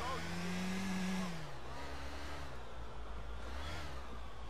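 A car engine in GTA 4 revs and drones while fleeing police, with a rising and falling mid-pitched tone under game sounds and quiet voices.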